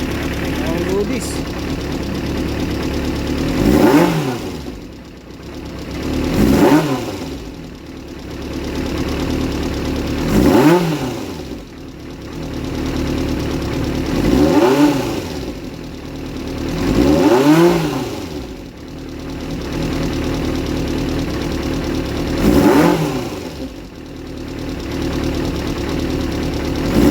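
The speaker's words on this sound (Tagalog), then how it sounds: "Uminit na yung makina." A Kawasaki GPZ400 motorcycle engine under repair runs with a steady mid-pitched idle, swelling in periodic revs every few seconds, with faint background voices.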